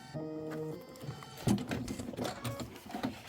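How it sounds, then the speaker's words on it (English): Sewing machine top stitching a holiday tote, a short whirring hum followed by a rapid patter of needle strokes, close and moderately quiet. "And we're going to go ahead and top stitch."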